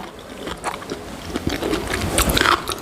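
Crisp crunching bites into crunchy food, a few sharp cracks in close succession, close up with no talking.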